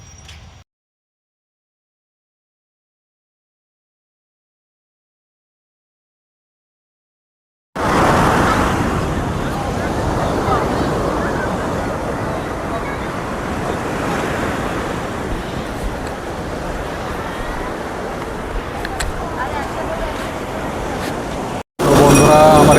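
Sea waves roll in at Marina Beach in Chennai, a dense, continuous roar of surf mixed with wind buffeting the microphone, loud and close after a long silent stretch at the start.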